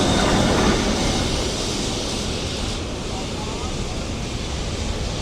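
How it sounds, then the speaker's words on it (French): A Lisbon tram running along the street, a broad rolling rumble with hissing wheel noise that is loud at first and gradually fades over several seconds, heard without talking. "Ah, le fameux tram en action, en direct."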